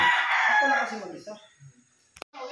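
A gamefowl rooster at a game farm on Mt. Banahaw in Dolores, Quezon gives one loud, close crow that trails off, followed by a short sharp sound and the start of another call.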